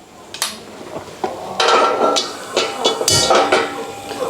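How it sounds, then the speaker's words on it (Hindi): A cooking pot being set on a gas stove while making yakhni pulao, with several sharp metallic clanks and scrapes, then louder clattering of pans that comes closer, and no talking. "तो यहाँ पर हम भगोना रख लेंगे"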